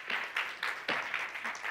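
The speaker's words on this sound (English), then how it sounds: "Ladies and gentlemen, a big round of applause." Audience applause at an event on women in the energy sector, a short stretch of scattered clapping with uneven bursts, moderately distant and fairly quiet.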